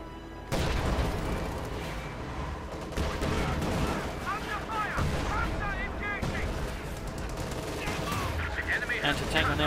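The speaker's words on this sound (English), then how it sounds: "Assault continues here, shot fired." Gunfire and artillery fill a Company of Heroes 2 match, with bursts of shots, booms and machine-gun rattle running continuously under a commentator's talk.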